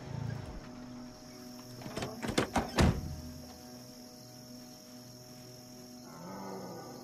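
A cow in the video game Project Zomboid lets out a loud, raw bellow around the middle, a few strained groaning pulses over a steady ambient hum, with crickets and thuds nearby.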